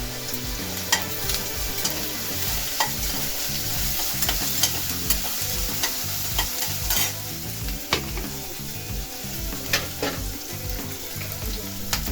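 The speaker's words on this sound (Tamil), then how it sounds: "வெங்காயம் நல்லா வதங்கிட்டு இருக்குது" Onions with curry leaves sauté in a pan, a constant busy sizzle with scattered sharp stirring clicks and scrapes over a low rumbling bed, close and steady, no talking.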